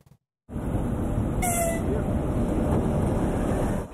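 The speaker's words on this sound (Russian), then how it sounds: "только поезд пересек мост через реку Аскиз" Steady loud rumble and rattle of a train crossing a railway bridge over the Askiz River, broadband and continuous, with a brief squeal partway through.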